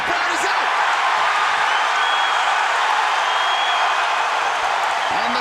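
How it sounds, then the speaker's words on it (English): A crowd at a UFC mixed martial arts fight roars loudly and continuously, a dense wall of cheering filling the arena without pause. "And the crowd goes crazy as Matt Brown gets upright."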